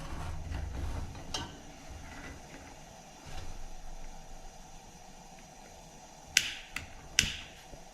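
A lighter clicks near a Coleman model 243 lantern that needs a new check valve, giving a few faint scattered clicks, then three sharp, close snaps near the end.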